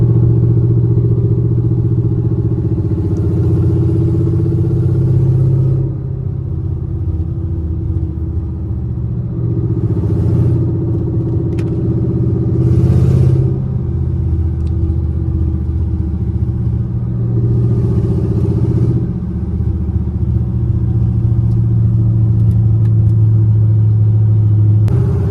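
Chevrolet Camaro SS with a loud exhaust rumbles steadily nearby in a deep, throaty idle, the engine note rising slightly with occasional revs over about twenty-five seconds.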